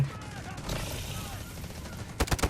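Rapid bursts of gunfire in the mobile game Delta Force crackle over a noisy, busy background, ending in a few sharp, loud shots close together.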